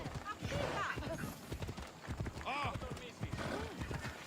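Horse hooves clip-clop in a steady, close rhythm in the video game Assassin's Creed Odyssey, with a voice talking over the hoofbeats throughout.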